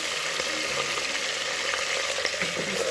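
Onion frying in a pan for okra stew, a steady close sizzle and crackle with a few scraping stir sounds, no voices.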